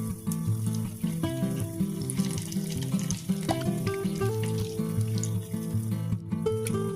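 Batter-coated tempeh fries in hot oil over a medium flame, giving a steady crackling sizzle that runs throughout under a faint tonal background hum.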